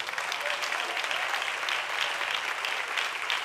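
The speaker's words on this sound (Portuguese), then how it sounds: "Você pode aplaudir ao Senhor Jesus." A church congregation in Rio de Janeiro claps continuously, a dense, even wash of applause filling the room.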